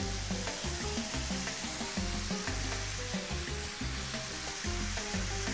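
Battered pepper shrimp frying in hot oil, a dense continuous sizzle and crackle with rhythmic low thumps of stirring or moving the pieces, close and steady throughout.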